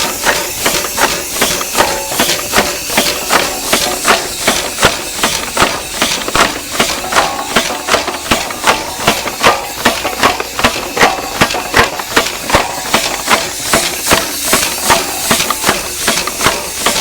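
An antique steam engine, restored after a full teardown and fresh oil, runs on compressed air, giving a steady, rapid train of rhythmic chuffing exhaust puffs with hiss and mechanical clatter, close and continuous, with no talking.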